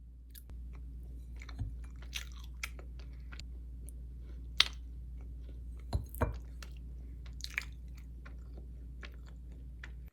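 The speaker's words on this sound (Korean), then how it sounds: "오늘 늦어서 후딱 먹고 가겠습니다" Someone eats a chocolate tart dessert up close, with soft, intermittent chewing and occasional small crunchy bites over a quiet low background hum, and no talking.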